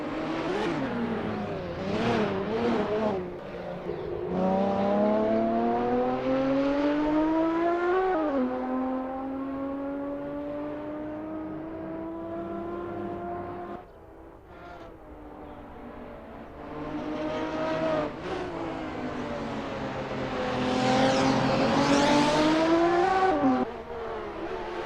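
Race cars warm up at the Nurburgring GP circuit in a sim racing game, engines revving through the gears in repeated rising, whining sweeps, loud and close, dipping briefly between pulls before climbing again.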